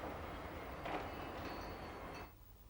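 A Chemins de Fer du Jura train runs steadily on rails through the Swiss valley near Tramelan, a continuous moderate rumble that drops off just before the end.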